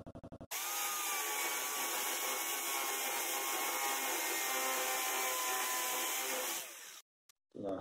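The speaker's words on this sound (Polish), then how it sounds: "postaramy się przewiercić nim tą kostkę brukową" A Parkside PSBM 750 B3 hammer drill grinds steadily into paving stone for about six seconds, a harsh continuous whine with rattling texture, then stops abruptly.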